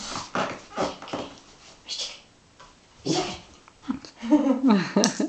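A Border Collie gives short whimpers and yips on command among brief indoor sounds, close and moderately loud, with a few sharper vocal bursts near the end.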